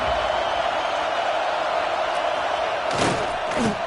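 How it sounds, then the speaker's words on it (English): A packed football stadium crowd roars without a break at a JG versus SMU game, a loud unbroken wash of noise with a few sharper shouts and thumps rising near the end. "This crowd, full throat, splitting the eardrums and letting them know it's going to be a long day."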